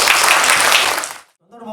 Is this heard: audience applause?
yes